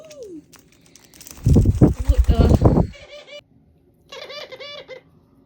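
A turtle dove gives soft cooing calls in two short bursts at the end, heard close by, after someone speaks loudly over it.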